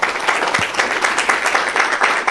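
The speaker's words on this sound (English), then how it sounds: "Let's give them a great round of applause to our two guests today" Audience applause for two guests at a small business empowerment workshop, a steady, dense clapping from a room full of people that holds at an even level without voices.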